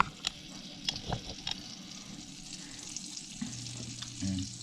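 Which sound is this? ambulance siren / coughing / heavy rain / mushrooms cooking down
mushrooms cooking down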